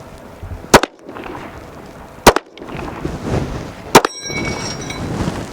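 A Ruger Magpul RXM pistol fires Russian Tula ammunition from a Glock magazine, three sharp, loud shots spaced about one and a half seconds apart, with the shooter wearing gloves, and steady outdoor background noise between reports.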